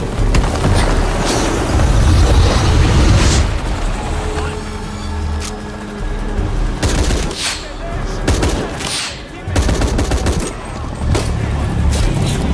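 Rapid bursts of gunfire from the video game Shadow of the Tomb Raider, loud and dense throughout, with booming impacts and short pauses between volleys, mixed with in-game action sounds.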